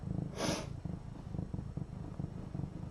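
A cat purrs while giving birth: a steady, low, rhythmic purr runs close throughout, with one short breathy snort early on.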